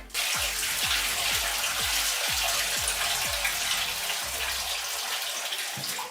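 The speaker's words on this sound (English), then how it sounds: "water is just like pouring out of it" Water gushes steadily out of a heavy container being lifted during cleaning, a close, continuous splashing pour with a series of low glugging gulps in the first half, no speech over it.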